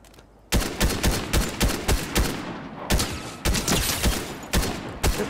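Rapid bursts of gunfire in the Fortnite video game, sharp repeated shots in close clusters with brief pauses between volleys, loud and up front with no talking.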